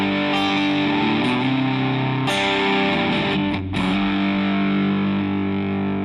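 Electric guitar run through a multi-effect processor on a funk preset, sounding crunchy and saturated, with strummed chords that continue over six seconds, one brief gap near the middle, loud and close, no voices.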